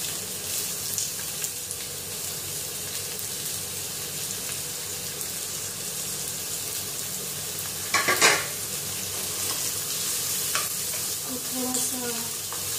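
Onions sizzle steadily in a hot pan with green chilli, and a brief louder burst of stirring and scraping comes near the end, all without talk.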